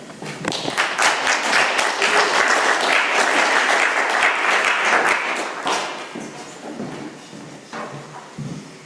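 A room of people at an Alcoholics Anonymous meeting in Doylestown, Pennsylvania, applauds with dense, lively clapping that holds strong for several seconds, then thins out into scattered claps and fades.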